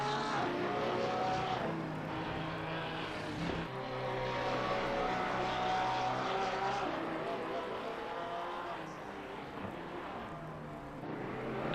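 Mid-engine race cars, including a Lamborghini Huracan, roar continuously through a lap in Gran Turismo 7, engine drones layered and steady with shifting pitch, a commentator's voice faintly running beneath.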